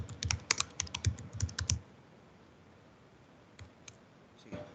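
Brisk, close keystrokes rattle on a computer keyboard in a dense burst, followed by a quiet pause and a few scattered single key clicks.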